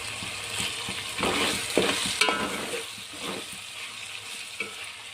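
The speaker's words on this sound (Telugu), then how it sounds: "అల్లం వెల్లుల్లి పేస్ట్ బాగా ఫ్రై అవ్వాలండి" Ginger garlic paste fries in a pan for a mutton dum biryani, giving a close, crackling sizzle broken by a few stirring scrapes and spatters, with no voices.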